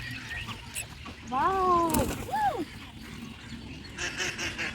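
A duck or goose at a duck farm gives two loud, close honking quacks around the middle, with faint voices and outdoor noise before and after.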